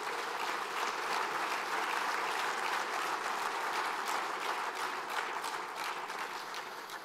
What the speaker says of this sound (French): d'applaudir une nouvelle fois, très chaleureusement, Son Excellence, le docteur Georges Weah.